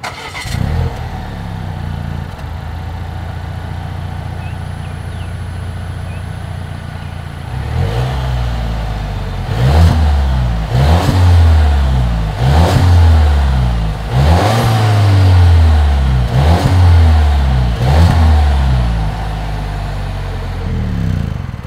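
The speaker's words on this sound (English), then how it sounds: "Here is that exhaust clip." A 2020 Volvo XC40 SUV revs repeatedly in loud, throaty exhaust bursts after a steady idle, each rev rising and falling in a rhythmic series, close by with no talking.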